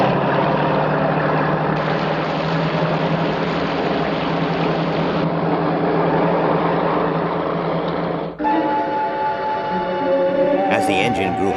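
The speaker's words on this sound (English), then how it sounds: "The cruiser moved away from its mooring and began to speed across the bay." Motor cruiser engine pulling away from its mooring and speeding across a bay: a steady, loud droning hum, with a shift in tone partway through as other sounds come in near the end.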